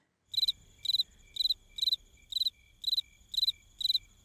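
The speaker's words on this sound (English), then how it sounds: "Where are these freaking crickets?" Crickets chirp in steady, evenly spaced bursts, each a quick trill of several pulses, repeating about twice a second over a faint low background rumble, clear and fairly close.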